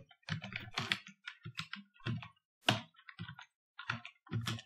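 Loud, close keystrokes on a computer keyboard while writing code, coming in irregular bursts and short runs of clicks separated by brief pauses, with no speech.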